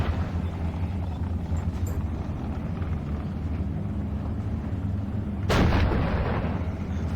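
Artillery fire in the Steel Division Normandy battle game: a low rumbling battlefield bed, then one loud, close, sharp cannon blast near the end that rings out briefly.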